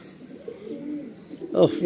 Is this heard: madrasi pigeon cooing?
yes